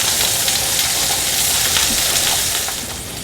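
Canadian bacon fries over medium heat in a pan, a steady close hiss and sizzle that continues unbroken and fades slightly at the end.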